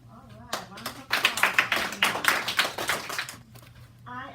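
Classroom of students giving a round of applause, a burst of many hands clapping close by for about two and a half seconds, with a teacher's voice before and after.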